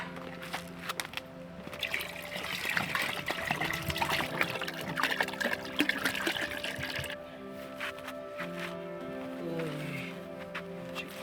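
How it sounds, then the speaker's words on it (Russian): Battery-powered camping shower set in a bucket, pumping campfire-warmed water out through its head: a steady spray and trickle of water with a faint motor hum, heard under intermittent talk outdoors. "Это душ на аккумуляторе. Он ставится, короче, в ведро внутрь. Отсюда он закачивает воду, оттуда выпускает."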